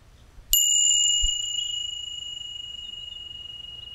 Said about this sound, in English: So whenever I ring this bell, it's go time and you can sink in.